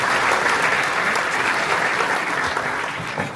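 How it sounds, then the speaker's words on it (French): A packed hall audience at a natural bodybuilding show in France applauds vigorously, with a continuous, full wash of clapping that holds steady and eases only slightly at the end. "vous pouvez vous applaudir pour ça"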